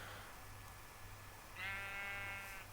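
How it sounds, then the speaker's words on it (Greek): A sheep in the video game Minecraft gives a single nasal, wavering bleat over a quiet low background hum, soft and brief. "κάνει ένα πρόβατο ήχος και μου σπάει τα νεύρα"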